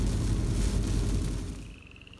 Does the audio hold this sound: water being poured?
no